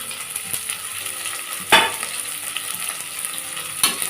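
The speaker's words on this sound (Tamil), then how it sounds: "இது வெங்காயம் வந்து நல்லா ரோஸ்ட் ஆகணும்" Steady sizzle of chopped onions and green chillies frying, with intermittent scraping as they are stirred in a pan, two sharper clatters standing out along the way.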